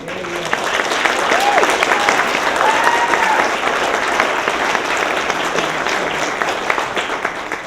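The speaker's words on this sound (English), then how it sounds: "I would be remiss if I didn't ask you to give a round of applause to Camille Downing and the crew" An audience at a retirement roast gives a sustained round of applause, loud, dense and steady for the full length, with voices and a few cheers mixed into the clapping.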